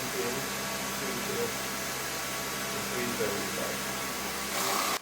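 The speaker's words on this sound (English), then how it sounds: "You may have also noticed the noise. It's not quite as other vacuum cleaners." A Dyson Ball Animal upright vacuum cleaner runs on a thick rug, giving a steady broadband whirring drone with a constant motor hum throughout and a brief louder surge at the end.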